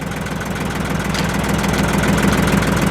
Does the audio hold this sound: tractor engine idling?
yes